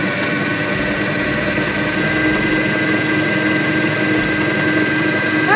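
A stand mixer fitted with a paddle attachment beats buttercream or cream cheese frosting. Its motor gives a constant, close whirring drone with a steady hum and no pauses.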